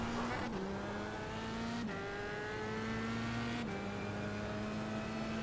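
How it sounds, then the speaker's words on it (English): A race car in the iRacing simulator, running on cold slick tyres, drones with a steady engine note that is faint overall. The pitch steps down sharply at intervals, like gear shifts, then climbs gradually again. "This is like absolute super duper cold slick tyres sliding everywhere."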